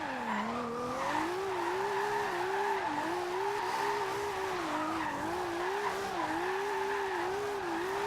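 A Toyota Supra with a turbo, a 1400 bhp build in the racing game Forza Horizon 2, holds a high wavering engine whine with tire squeal as it skids, steady and loud without voices.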